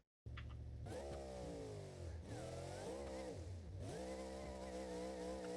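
A twin-screw supercharged engine in the video game BeamNG.drive revs hard, its pitch repeatedly rising and dropping in sweeping surges, loud and close with a whining, buzzing tone.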